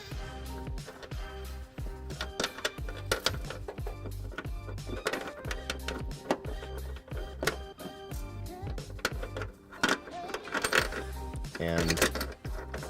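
Metal carriage bolts being pushed up into the frame rails of a 2012 Kia Optima during a trailer hitch install, giving a dense run of close, clinking metallic rattles and taps throughout.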